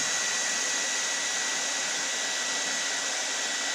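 A hair dryer blows steadily and loudly on wet, messy paint artwork meant to blend its colors, a constant broadband whoosh running unbroken from start to finish with no talk over it.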